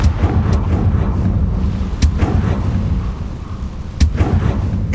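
A Confringo blasting spell bursts in Hogwarts Legacy, with loud sharp impacts at regular intervals over a dense, rumbling low-end battle din.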